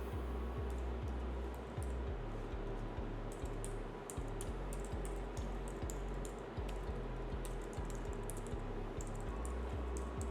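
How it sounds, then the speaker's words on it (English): Fingers type quickly on a computer keyboard, entering personal details, with steady clicking keystrokes and occasional pauses, close and quiet with no talking. "Now just type in your personal info."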